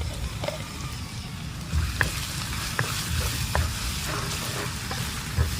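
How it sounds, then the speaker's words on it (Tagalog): Onion and garlic sauté in oil for chicken pastel, a steady close crackling sizzle with occasional sharper pops and faint stirring clicks, heard without talking. "Gisahin lang natin to until mag-translucent"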